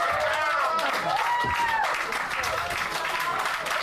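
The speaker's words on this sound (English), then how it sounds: "Round of applause! Round of applause!" An audience claps for a stage performance during a livestream show, steady applause filling the clip while voices talk over it.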